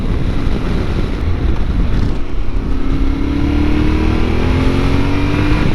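A Yamaha Ténéré 700 motorcycle exhaust drones steadily at speed, with buffeting wind noise mixed in and the engine note climbing slightly under it.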